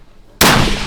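A single loud, close gunshot cracks out at an outdoor shooting range, a sharp blast that cuts through the quiet and lingers as a fading rumble.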